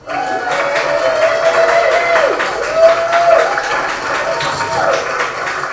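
A crowd applauds and cheers steadily at a community event honouring key workers in Croydon, sustained clapping with a bright whistle-like tone running through, fairly loud and without speech.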